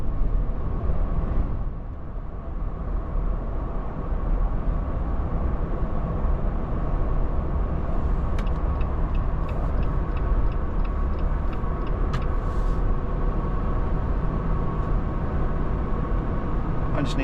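Jeep Gladiator driving straight along a road after a backyard alignment, a steady loud interior road and engine drone throughout with faint ticking clicks midway, and no talk.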